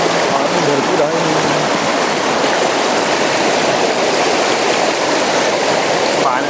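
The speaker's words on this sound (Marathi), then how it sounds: "पाण्याचा फोर्स खूप आहे त्याच्यामुळे जरा" A strong river current rushes continuously, loud and close, a dense unbroken roar of water in a Konkan village while someone wades across.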